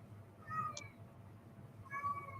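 A cat meows twice, a short clear call near the start and another near the end, each with a wavering pitch over a steady low background hum.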